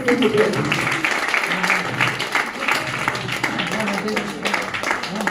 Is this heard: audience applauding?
yes